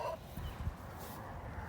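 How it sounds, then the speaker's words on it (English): A hen in a farmyard on a rainy spring morning gives a short, close cluck over steady background rain. "And here's my crowing hen."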